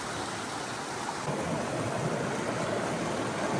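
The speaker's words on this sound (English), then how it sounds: "Little creek, I don't even know what it's called, but it's definitely fresh water." A small freshwater creek flows with a steady, even rush of water close by, with no other sounds.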